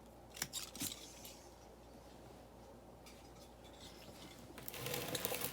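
Scissors snipping basil plant stems during pruning: a couple of quick, close, crisp cuts near the start and another cluster near the end, with quiet rustling of leaves between them and no talk.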